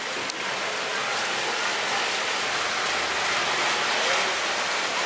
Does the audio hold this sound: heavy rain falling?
yes